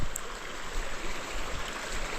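A river flows with a steady broadband rush of water, continuous and fairly close, with no voices over it, at an outdoor farm visit.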